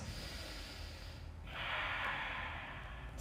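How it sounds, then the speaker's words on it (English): A deep, drawn-out breath, part of a yoga exercise, builds into a louder, airy exhale about halfway through. It is close and steady over a low background hum, with no talk. "Take 2 big breaths."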